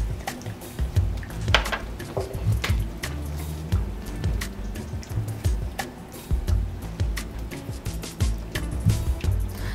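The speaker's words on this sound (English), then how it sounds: "So I'm just going to add in my green seasoning and mix that in." Green seasoning being stirred into a thick vegan squash and potato curry in a pot: a steady run of soft, wet squelches and scraping knocks, close up and fairly loud, with no talking.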